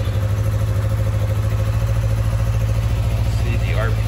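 A motorcycle engine runs steadily at idle, a loud, continuous low rumble with rhythmic clatter, close by, with no voices over it.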